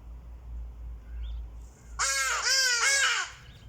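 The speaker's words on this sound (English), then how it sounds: "Oh, beautiful birds." Crows give about three harsh, raspy caws in quick succession, loud and near, after a couple of seconds of quiet background hum, with no talk.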